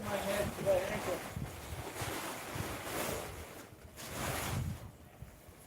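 Blustery outdoor wind buffets the microphone in irregular gusts, rumbling and swelling then easing off, loud and close with rushing noise.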